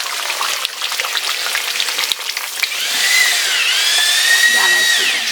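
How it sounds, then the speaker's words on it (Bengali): Hot milk poured onto frying meat and ground masala for chicken dum biryani sets off a loud, hissing sizzle that rises and holds steady, with a few faint clinks. "এখন গরম দুধটা দিয়ে দিচ্ছি।"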